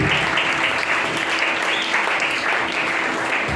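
A church congregation applauds loudly and steadily, a dense continuous burst of clapping with faint voices mixed in.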